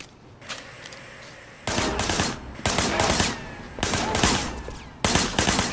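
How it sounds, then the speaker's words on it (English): Bursts of gunfire in the video game Sleeping Dogs come in four loud, close volleys of rapid shots, each about a second long, separated by short gaps with quieter background sound. "Shooting at the guys over there."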